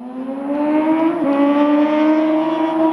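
A motorcycle engine revs up close in a car park, its pitch climbing steadily in a loud, continuous whine, shifting briefly midway before rising again.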